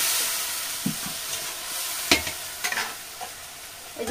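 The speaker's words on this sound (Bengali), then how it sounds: "হলুদ, সামান্য জল দিয়ে মশলাটাকে কষিয়ে নেব।" A spice paste of turmeric and a little water stir-fried in a pan, giving a soft continuous sizzle broken by a few brief scrapes and clinks of the spoon.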